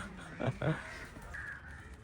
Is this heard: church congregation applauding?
no